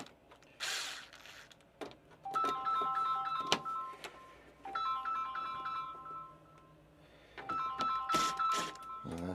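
A phone ringtone for an incoming call on a repair bench, its short melodic phrase repeating three times close by, mixed with clicks and rattles of tools and screws.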